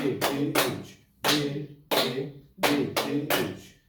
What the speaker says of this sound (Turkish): Şimdi bu alkışımıza bir ritim katacağız. Ritmimiz 1-2, 1-2-3 olacak.